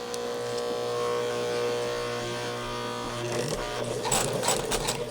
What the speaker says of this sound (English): When you sew a seam, you're going to take a few stitches,